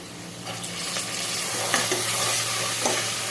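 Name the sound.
chana dal added to onions frying and stirred in pan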